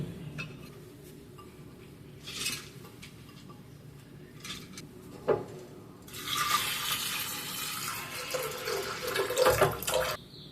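Water pours steadily into a pressure cooker holding soaked toor dal and a second dal with salt, a brief clink first, then a loud, continuous splashing stream for several seconds close by.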